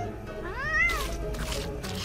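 Ice Cream Kitty, the mutated ice cream pet cat from a Teenage Mutant Ninja Turtles Legends game, lets out a single rising-and-falling meow, close and clear over a low game music bed.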